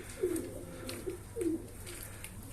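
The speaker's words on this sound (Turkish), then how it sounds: "Abi her yerde, her köşede bir kuş var." Pigeons coo in a coop, giving three soft, low throaty calls at irregular intervals over a faint steady background hum, close by with no talking.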